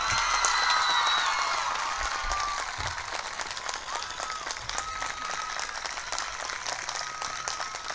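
Sustained applause from an audience at a college event with students, steady dense clapping that continues throughout at moderate volume, with faint crowd murmur underneath.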